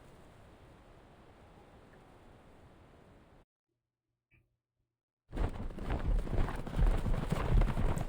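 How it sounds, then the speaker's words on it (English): Hooves gallop in the video game Reverse: 1999, a faint steady patter that breaks off into near silence, then returns as a loud, dense drumming rush. "The burdenless horses gallop wildly as the giant bird flies further and further"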